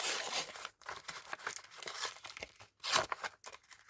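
Plastic packaging of a Pokémon card tripack is pulled and torn open by hand, giving repeated crinkling rips in close, loud bursts with short pauses between them.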